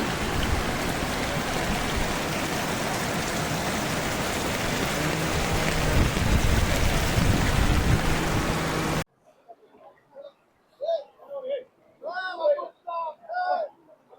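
Heavy rain pours down in Parbhani in a dense, constant hiss for several seconds, then cuts off abruptly as people begin talking and laughing nearby.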